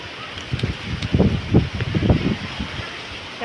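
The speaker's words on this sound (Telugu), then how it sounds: "చాలా గాలి అయితే వేస్తుందండి." Strong wind gusts buffet a home garden, swelling in low rumbling bursts that peak midway and then ease off, with faint rustling behind them.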